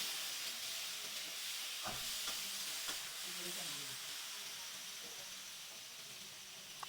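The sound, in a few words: potato and eggplant frying and being stirred in pan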